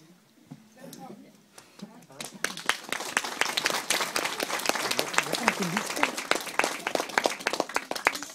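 Audience at a school theatre performance at Pilehaveskolen breaks into applause, building from scattered claps into dense, sustained clapping that fills the hall, with some voices mixed in.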